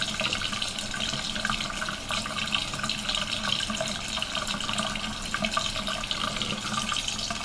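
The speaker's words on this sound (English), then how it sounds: "take the cap, just put a little bit of water in there. Swish it around like the way you normally do it." Water runs from a tap into a small brush-cleanser cap as a makeup brush is swished around in it, making an even, unbroken splashing rush close by, with no talking.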